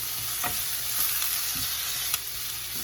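Onion frying in a pan for an authentic Mexican chile relleno, giving a steady close sizzle with a few soft stirring scrapes and no voices.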